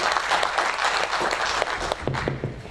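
An audience at a university research week event applauds, a close, dense burst of clapping that continues steadily for a few seconds.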